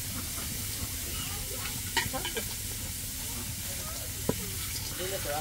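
Meat and onions sizzle in a pan with a steady hiss and occasional stirring clinks, while someone talks over the cooking in a home kitchen.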